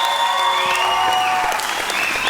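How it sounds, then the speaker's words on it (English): Audience in the house applauding for a contestant at a vocal competition semi-final, continuous dense clapping with sustained musical tones and a few voices layered over it. "Why don't we just give her a round of applause"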